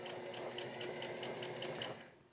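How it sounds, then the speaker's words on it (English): A domestic sewing machine runs steadily, topstitching a folded-back raincoat sleeve lining in one straight line, its motor hum carrying rapid, evenly repeating needle clicks close up, then winding down at the end; no one speaks. "I have simply folded back the fabric and am now top stitching it on itself because it's just one straight line around."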